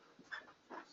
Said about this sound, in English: I took my eye off the dog.